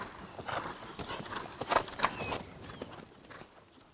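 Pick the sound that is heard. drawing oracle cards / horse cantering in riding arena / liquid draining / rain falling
horse cantering in riding arena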